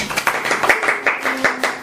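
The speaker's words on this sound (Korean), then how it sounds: "박수로 맞아주시죠" An audience claps in welcome for two guest experts at a live Korean radio talk show on copyright, with a steady run of sharp, fairly close handclaps throughout.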